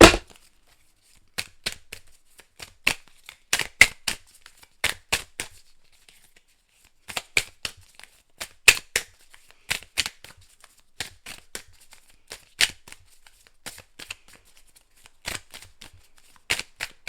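Oracle cards being shuffled and handled, a series of close, crisp riffling and slapping bursts in irregular clusters separated by short pauses.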